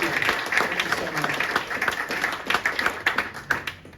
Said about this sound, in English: So can I get one more round of applause for Leaner Startups?